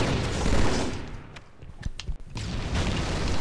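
Gunfire in a Team Slayer match of the Halo 2 video game on the Lockout map: dense bursts of shots at the start and end with a quieter stretch of scattered sharp reports in between.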